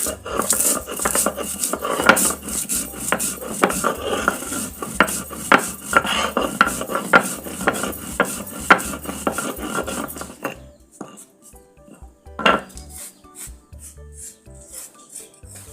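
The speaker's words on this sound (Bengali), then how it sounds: "এখন পাটাতে বেটে নেব" Roasted green mango being ground by hand on a flat grinding stone for mango juice: brisk, rhythmic scraping strokes for about ten seconds, then a pause and a single knock.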